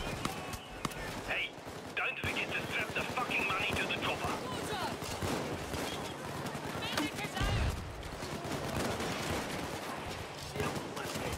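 Gunfire aimed at the player in Payday 2 rattles in rapid, overlapping bursts of shots over a busy game din, continuing for several seconds, with a voice heard at moments.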